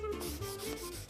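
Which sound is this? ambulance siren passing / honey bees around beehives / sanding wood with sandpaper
sanding wood with sandpaper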